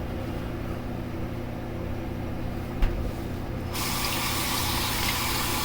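A towel is rinsed under a running tap while shaving. The steady rushing water grows louder and brighter about two-thirds of the way through, with one small knock partway.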